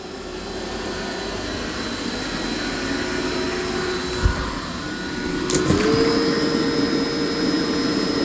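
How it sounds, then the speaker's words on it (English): A Dreame X60 Ultra robot vacuum vacuums and mops a big mess at the same time, with a close, steady motor whine. A brief knock comes midway, then the drone rises in pitch and grows louder as suction increases. "the Dreame X60 Ultra is going to start cleaning up this big mess. I've got it vacuuming and mopping at the same time"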